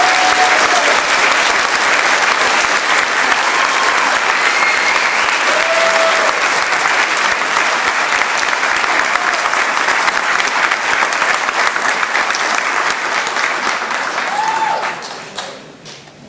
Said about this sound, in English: Can you give all the graduates another round of applause?